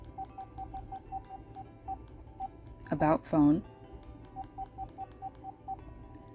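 Kyocera KYF31 flip phone keypad gives short beeping button tones in quick regular runs, near and clear, broken by a brief burst of speech in the middle.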